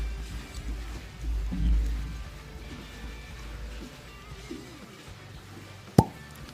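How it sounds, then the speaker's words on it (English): A cork pops from a bottle of Blackland Pecan Brown Sugar Bourbon with one sharp, loud, close pop near the end, after a stretch of quiet low rumbling and handling noise. "But it was a really good cork pop."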